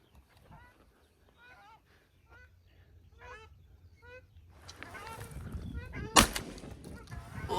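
Ducks call in short repeated quacking bursts during a spring hunt, followed by rising wing and movement noise and a single sharp gunshot, with someone speaking quietly at times.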